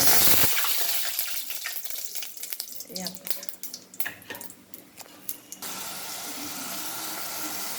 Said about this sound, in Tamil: வெந்தயம் பொரிஞ்சிருச்சு.